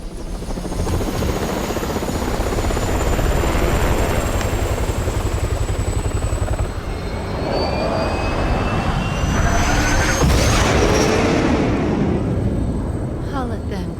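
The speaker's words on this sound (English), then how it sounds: "first we have to crash the helicopter, because it's a helicopter." A helicopter in the video game Resident Evil 6 roars loudly and continuously with a steady rotor thrum and whining engine, building to a louder swell near the end, with game voices talking over it.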